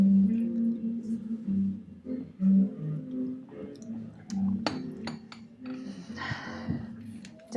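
Glasses of hot chocolate clink together in a toast, a few light chimes sounding close by over a low, steady background hum.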